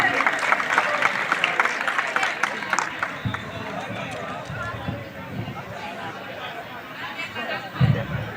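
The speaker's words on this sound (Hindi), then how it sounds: "एक बार जोरदार तालियां प्रिंसिपल सर के लिए।" Applause for the school principal at a school gathering, crowd clapping with chatter and voices throughout, loudest early and tapering off.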